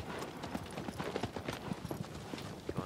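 Horse hooves clip-clop steadily in Shadow of the Colossus, a quick, even run of soft thuds at a moderate distance, fairly quiet with faint ambient noise and no talking.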